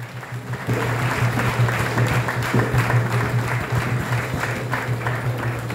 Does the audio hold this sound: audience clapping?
yes